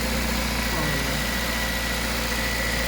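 A K-swapped Honda Jazz engine idles close by with a steady, even low-pitched rumble and an unchanging drone for the whole short stretch.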